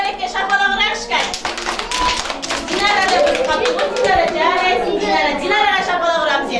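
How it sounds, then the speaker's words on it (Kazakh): Children and parents applaud at a kindergarten celebration for March 8 and Mother's Day. A patter of clapping runs under loud adult talk and children's voices. "шапалақ ұрамыз енді"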